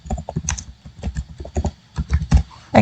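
Keys on a computer keyboard tapped in an uneven run of close, crisp clicks while names are entered into an Excel spreadsheet, with short pauses between bursts.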